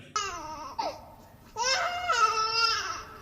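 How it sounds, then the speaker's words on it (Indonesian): A baby cries in two close, wavering wails, a short one followed by a longer, drawn-out cry. "Dan salah satu dari mereka mendengar tangisan bayi."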